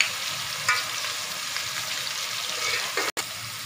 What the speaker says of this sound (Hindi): फिर हम इसमें जो है देखिए हमारा मसाला तकरीबन भुनने लगा।